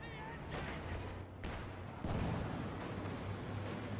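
Cannon artillery fire in the World War II strategy game Company of Heroes 2, a deep boom rolling under steady battlefield rumble and a commentator's voice.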